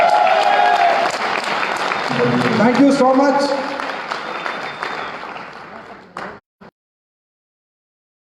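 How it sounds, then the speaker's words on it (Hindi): Loud audience applause and cheering fill a hall during a CEO and MD's anniversary speech at a wellness company event, with voices over the clapping before it cuts off abruptly near the end. "एक बार जोरदार तालियां।"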